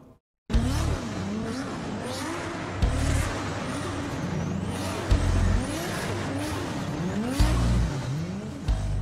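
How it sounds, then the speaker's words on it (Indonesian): Race cars drive and drift at a Fast and Furious Live arena show, engines revving and rising and falling in pitch as they pass, with repeated loud bursts and tire squeal, close and continuous. "penonton bisa melihat langsung aksi balap mobil dan drifting di depan mereka"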